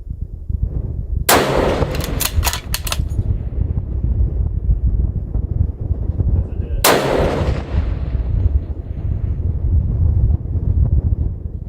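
Two sharp, loud shots from a CheyTac M200 Intervention rifle ring out several seconds apart over steady wind buffeting the microphone, with metallic clatter of the bolt being worked right after the first shot.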